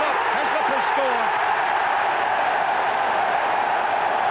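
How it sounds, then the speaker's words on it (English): A packed Twickenham stadium crowd roars after an England try against Scotland in a Five Nations rugby union match, a dense, sustained wall of cheering with a brief voice over it at the start. "The crowd are delirious there. The whole of Twickenham on its feet."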